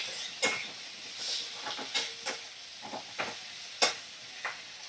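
Chopped tomato in a pan over medium flame gives off soft sizzling with intermittent scraping stirs, a series of brief clicks and hisses at moderate volume.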